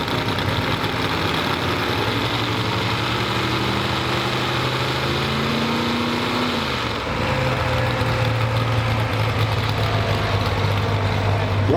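A heavily built pulling truck at a truck and tractor pull idles loudly and steadily, its low engine drone dipping briefly before rising again into a stronger, sustained rumble.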